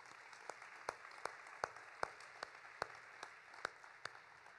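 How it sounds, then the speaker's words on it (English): Audience applause after an author talk, sparse and quiet, a handful of distinct claps standing out at a fairly even beat over low room noise. "please join me in another round of applause for Ron and Steph"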